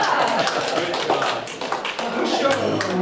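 A group at a chamber of commerce business exchange claps in a quick, uneven patter, moderately close, with people talking over the clapping.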